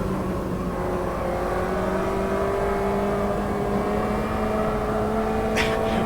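Race car in the Automobilista 2 sim racing game, its engine holding a strong, steady high-revving tone with layered harmonics throughout, loud and close, with a brief sharp burst near the end and no talking.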